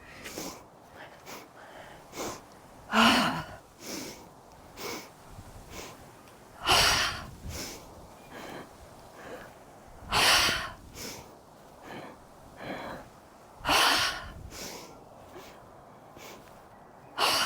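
Deep yoga breathing: slow, forceful inhales and exhales through the nose and mouth, repeating in a steady rhythm every few seconds. The breaths are close and clear, with quiet pauses between them.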